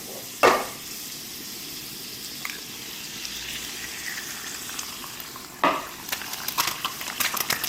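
Butter tossed into a ripping hot pan with egg, a steady close sizzle with two sharp bursts as ingredients hit the pan, then crackling spatters toward the end.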